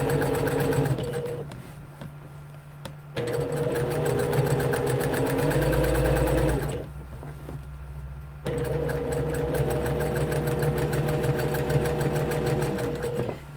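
Sewing machine top stitching a garment along a curve, a close, rapid mechanical whir running in three stretches separated by brief pauses.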